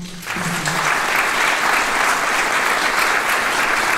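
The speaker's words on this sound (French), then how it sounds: "je pense que ça vaut un bon applaudissement" A conference audience bursts into applause that rises quickly and holds as a dense, even wash of clapping from many hands, loud and close, after a brief spoken word at the very start.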